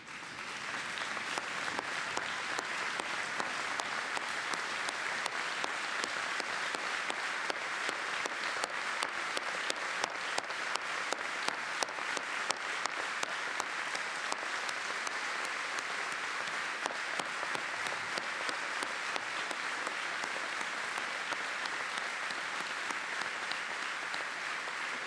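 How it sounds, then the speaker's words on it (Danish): A party congress audience at a national convention gives long, dense applause for election candidates, an even roar of many clapping hands with crisp individual claps standing out, continuous and unbroken, with no voices over it. "så vi kan give jer en kæmpe stor klapsalve og give jer opbakning til den valgkamp"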